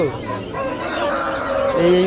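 Chickens cluck and call at a busy bird market, close by, with people talking over and around them for the whole two seconds.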